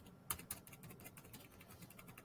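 Rapid, light keystrokes clatter on a computer keyboard, a steady stream of close, quiet taps with a couple of sharper clicks near the start.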